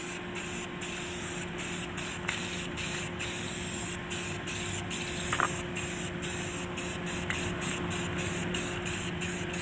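A spray can lays primer onto a lowboy trailer in steady hissing passes, close and continuous, broken by short regular on-and-off gaps as the nozzle is released and pressed again.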